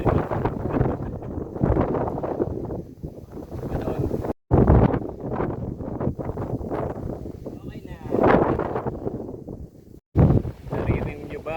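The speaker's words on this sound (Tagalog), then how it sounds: "Kung gaano kalakas ang hangin na yan." Strong mountain wind on Mt. Lantik roars and buffets the microphone almost nonstop, with voices speaking intermittently beneath the gusts and two brief dropouts.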